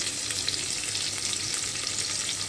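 Steady crackling sizzle of cumin, cloves, bay leaf, garlic, ginger, green chilli and curry leaves frying in hot oil, a dense continuous hiss close up with no voices.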